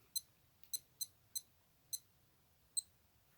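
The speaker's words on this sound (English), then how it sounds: "it's now beeping good and proper" A repaired Casio G-Shock digital watch (module 2463) beeper chirps six times, sharp high-pitched bleeps at uneven intervals, close and fairly faint against a quiet background.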